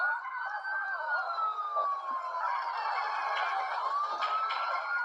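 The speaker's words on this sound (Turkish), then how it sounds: "Aa, sireni bir kapatalım." A video game police car siren wails continuously, its pitch sweeping slowly up and down, steady and moderately loud with no one talking.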